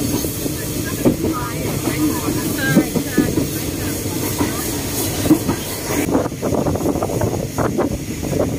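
Special excursion train 901 hauled by a steam locomotive on the Bangkok (Hua Lamphong) to Ayutthaya line, heard from aboard as a steady loud rumble and hiss with wind buffeting and faint rail clatter throughout.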